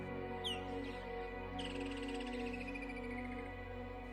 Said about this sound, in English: The wetlands here attract flocks of birds, especially waders.